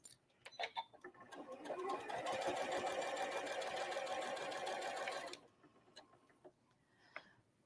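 A sewing machine stitches a quilt block in one fast, steady run of about three seconds, framed by scattered clicks and handling taps before and after.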